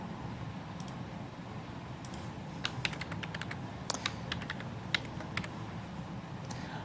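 Keystrokes on a computer keyboard, tapped in a light, irregular burst of clicks through the middle of the clip over a steady room hum.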